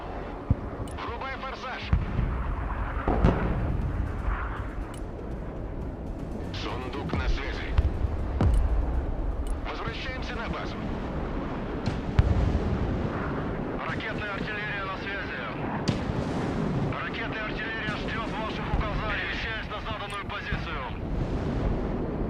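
Rockets fire in the video game Broken Arrow, giving repeated heavy booms and rumbling blasts over a constant windy roar, with players talking over the action.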